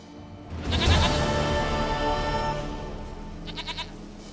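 A goat in the video game The Witcher 3: Wild Hunt lets out one drawn-out bleat, close and clear, followed by a faint tinkling of small bells.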